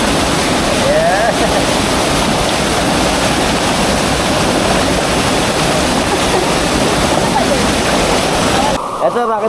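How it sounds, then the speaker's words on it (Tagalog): Hidden Falls in Quezon Province, a close, loud, steady rush of falling water that continues throughout, with voices briefly talking over it and a cut at the end. "Marami palang part tong falls na to."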